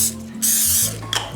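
Cooking spray hisses into baking pans for orange cranberry bread, two short bursts close by, each about half a second, with faint kitchen clatter between.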